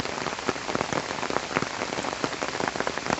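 Rain on a farm, dense close patter of drops striking a surface, steady and even throughout with no voices.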